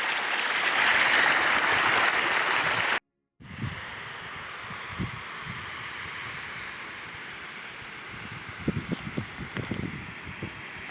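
Laundry gets washed by hand in the icy water of Lac Robert in the Belledonne mountains, heard as outdoor wind and water rush followed by soft irregular splashes and sloshing close by after a brief cut.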